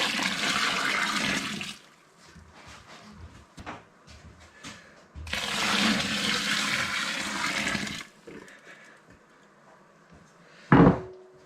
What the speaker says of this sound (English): So I will wash it with 10 liters of water, which I have preheated to the same mashing temperature.